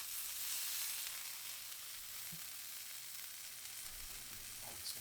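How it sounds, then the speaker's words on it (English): Bacon-wrapped steak side-searing on a woodfire grill gives a faint, steady sizzle with soft hiss throughout, a few small pops and crackles, no voices. "All right, that guy is ready for some side searing"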